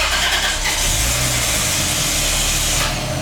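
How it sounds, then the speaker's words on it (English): A Toyota Chaser engine turns over on remote start, a loud, dense, continuous mechanical roar of starter and engine, heard up close for a few seconds without voices. "the starter runs for like too long. You can hear it still cranking over"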